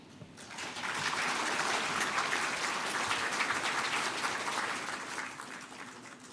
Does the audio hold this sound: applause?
yes